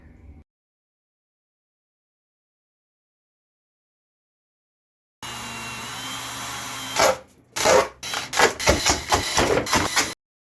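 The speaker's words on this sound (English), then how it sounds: "Now I only have this motor spinning." After a few silent seconds, an electric motor on a homemade jetsurf board spins up with a steady whirring hum, then stutters into rapid rattling bursts and clatter, loud and close.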